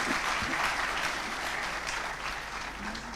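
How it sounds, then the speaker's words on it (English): A hall audience at a Youth 20 consultation at IIM Raipur gives its panelists a big round of applause, sustained dense clapping from many people that fades slightly toward the end. "Let's have a big round of applause for our panelists."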